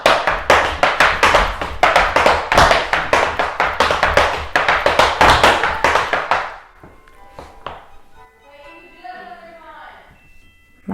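Tap dance shoes striking a wooden board, fast loud rhythmic clicks for about six seconds, then a few sparse taps under a brief spoken voice near the end.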